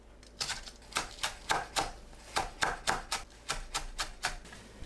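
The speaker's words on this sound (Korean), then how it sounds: "파를 작게 썰어줍니다." A knife chopping green onion on a cutting board in quick, even strokes, about a dozen crisp taps in bursts, close and fairly quiet with no talk.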